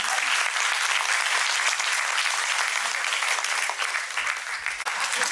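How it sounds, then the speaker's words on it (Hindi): Loud, dense applause from an audience at a Bihar and Jharkhand cultural gathering in Ho Chi Minh City, sustained and steady across the whole stretch before thinning slightly near the end. "जोरदार तालियां बजाइए।"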